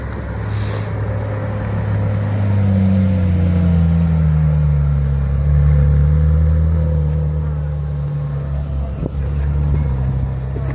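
A V6 car engine revs up loudly close by, its tone climbing and holding before easing back down, a single sustained rev with a brief click near the end.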